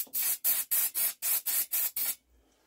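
Brake cleaner sprays onto a carbon-fouled part of an old Lister diesel generator in eight quick, evenly spaced hissing bursts, loud and close, then stops.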